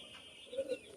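Pakistani master-bloodline pigeons give a couple of faint, soft coos close together in a quiet space, with a light chirp near the end.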